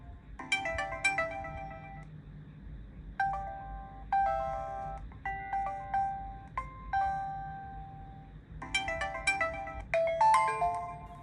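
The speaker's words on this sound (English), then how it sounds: "Just listen to these ringtones." A series of short electronic Windows Phone ringtone melodies from a Nokia Lumia 930 plays one after another, bright chiming notes in quick rhythmic phrases separated by brief pauses.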